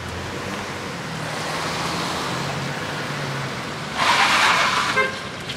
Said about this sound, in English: 4 o'clock, but a huge traffic jam.